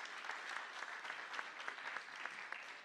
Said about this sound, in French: Et on peut applaudir Richard Loyen